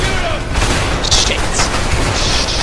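Loud, dense gunfire from the A Way Out video game crackles continuously in booming bursts, with shouting voices mixed into the chaotic battle noise.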